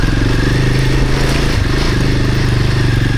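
A motorcycle ridden off-road in Spain on light throttle, with a loud, close, steady low engine thrum and throbbing exhaust pulses, a brief dip midway and no talking.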